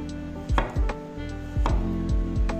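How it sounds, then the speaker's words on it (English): Knife slicing a ripe plantain into thick rounds on a board, several crisp, close chops spaced irregularly, each a sharp thud against the surface, with no talking. "I'm going to slice this one up nice and thick and in rounds"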